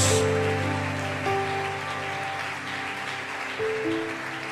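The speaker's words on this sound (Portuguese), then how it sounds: "Você pode aplaudir a Ele e dar um glória ao nome de Jesus." A church congregation applauds in a steady, dense wash of clapping that fills the room, while sustained musical tones hold underneath throughout.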